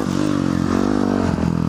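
A motorcycle pulling a wheelie on a North Shore road in Maui, its engine droning loud and steady with the pitch rising and dipping slightly under throttle, no voices.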